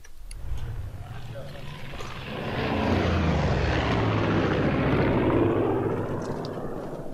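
Propeller airplanes drone overhead in the video game Far Cry 5, a rumbling engine roar that swells and holds loud for several seconds before easing slightly.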